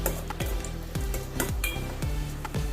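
Cashew nuts fry in hot ghee in a pan for semiya payasam, a soft sizzle under a spoon stirring and clinking against the metal about twice a second.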